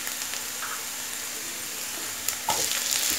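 Onion and tomatoes sizzle in a hot pan for rava upma, a steady close frying hiss with brief stirring clatter and a louder surge near the end, and no talking.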